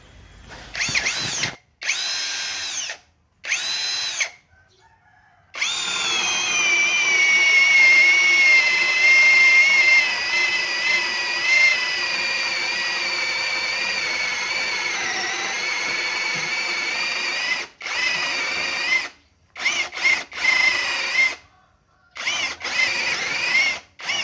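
Brushless cordless drill fitted with a flat spade bit, whirring in short bursts at first, then running in one long steady high-pitched spin, followed by several more brief bursts with gaps of silence.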